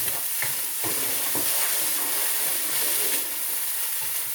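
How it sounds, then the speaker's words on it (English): Tomato puree stirred in a hot pan, a continuous bright sizzle and hiss with soft, irregular scraping strokes, close and alone. "And give that a stir."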